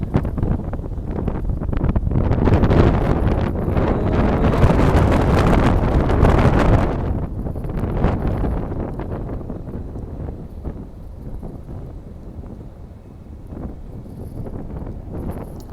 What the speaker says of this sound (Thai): โน้นลมแรงมากเลย